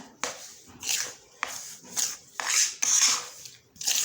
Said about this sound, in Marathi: आता हे सगळं मिक्स करायचं आहे आपल्याला